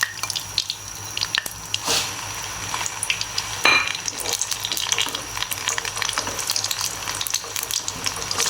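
Spice paste with green cardamom frying in a pot for Lahori-style black pepper chhole, a steady wet crackle and hiss with a few stirring clatters, close and alone without talk.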